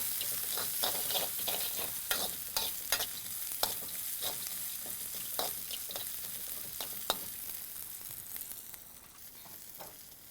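Frozen green peas sizzle in a hot pan for poha while a spoon stirs them, with a steady frying hiss broken by repeated sharp scraping clinks of utensil on metal, close and clear with no talking.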